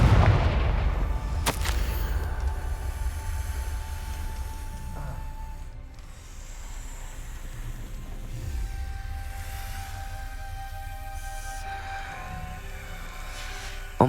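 A Confringo explosion spell in Hogwarts Legacy goes off with a sharp blast followed by a long rumbling roar and lingering low booms, loud and alone.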